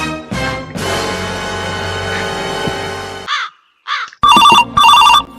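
A phone ringtone plays loud and close, a sustained bright melodic ring for about three seconds, then after brief pauses two short repeated electronic ringing bursts near the end.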